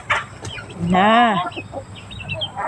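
A chicken gives a drawn-out, wavering squawk amid short clucks, with a brief bit of human voice at the start, fairly close.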